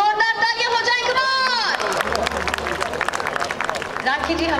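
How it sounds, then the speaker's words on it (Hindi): Applause for actress Rakhee Gulzar at the Aadhi Aabadi Women Achievers Awards 2015, a crowd clapping as a steady patter that starts under a voice and carries on after she stops. "एक बार राखी गुलजार जी के लिए जोरदार तालियां हो जाए।"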